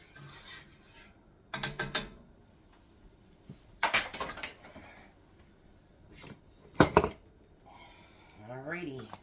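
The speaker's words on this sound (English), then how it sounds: "let me stir this up once more" Spoon scraping and clattering in a pot of sweet and sour chicken mixture, a few separate bursts of metallic stirring spaced apart between quiet stretches, close and moderately loud.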